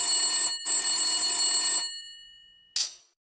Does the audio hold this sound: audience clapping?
no